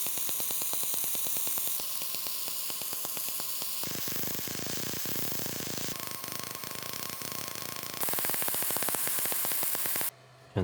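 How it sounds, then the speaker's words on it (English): Laser engraver (Gweike Cloud G2 Pro) burning into metal, giving a steady electrical buzz and hiss with a faint mains-like hum, pulsing in rapid ticks and shifting texture every few seconds, then cutting off near the end. "I wanted to record the sound of the actual laser, engraving on the metals"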